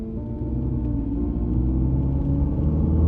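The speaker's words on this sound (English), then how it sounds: "as Sarah was driving home from work" A car drives home from work on a quiet road, its engine and road noise forming a steady, loud low rumble heard from inside the vehicle.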